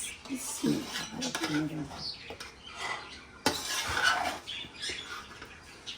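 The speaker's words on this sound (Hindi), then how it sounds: "करते हैं मतंजन को मिक्स" Metal spoon scraping and clinking in a pot while sweet matanjan rice is mixed, soft irregular scrapes and taps at close range with faint background noise.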